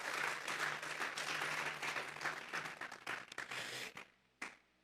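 Church congregation clapping during a Sunday service, a loud, dense burst of applause filling the room that thins into scattered individual claps and then fades out near the end.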